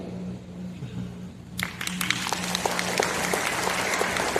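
Audience applause at an indoor training seminar breaks out after a quiet start, a dense clapping that swells and holds steady to the end.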